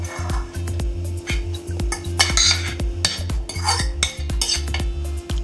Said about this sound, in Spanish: a desbaratar un poco la yema de los huevos con el atún